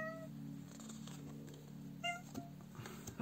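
A house cat gives a couple of faint, short meows against a quiet indoor background, with a soft steady hum underneath.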